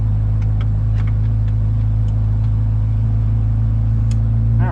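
A Corvette C8 Z06 fitted with a Soler 91mm throttle body drones at a steady low rumble while driving, loud and constant from inside the car, with no talking.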